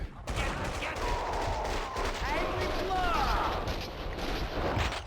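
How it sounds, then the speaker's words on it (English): Rapid gunfire crackles in an audio drama, a dense stretch of shots and bursts under a continuous layer of noise, with a narrating voice speaking over it. "Someone must have heard the gunfire."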